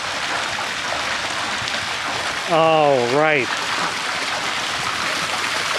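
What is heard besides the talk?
swimming pool water streams running from return jets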